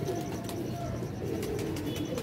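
Pigeons cooing softly at a pigeon loft, a faint low murmur of coos running continuously and close by.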